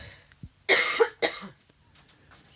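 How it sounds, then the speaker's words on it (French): Two sharp, close coughs in quick succession, preceded by a faint breath and followed by quiet. "Je vais tousser."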